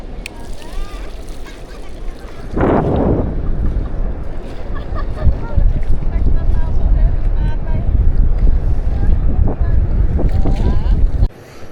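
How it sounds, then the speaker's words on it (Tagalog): Strong wind at a beach buffets the microphone in a continuous, loud roar with gusty swells, while a person talks over it near the start. "Ang lakas ng hangin."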